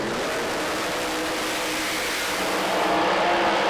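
Pro Mod drag race cars at Santa Pod Raceway in a final-round pair, a loud continuous broadband engine roar that swells slightly toward the end, heard from a distance with no talk.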